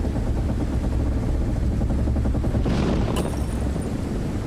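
Storm effect for an audio drama: a loud, continuous roar of violent wind with a low pulsing rumble, joined near the end by a rising gust and a sharp crack.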